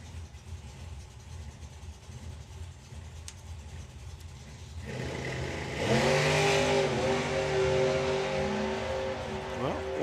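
A supercharged Volkswagen drag racing car at a drag race event builds from a rumbling idle into a loud rising engine roar, with an announcer talking over it throughout.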